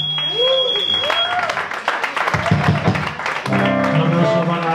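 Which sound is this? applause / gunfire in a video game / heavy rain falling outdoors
applause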